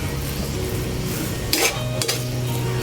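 Pancit bihon rice noodles with sardines and fishballs being stirred in a pan, a soft steady sizzle with a couple of sharper utensil scrapes against the pan partway through, close and alone without talk.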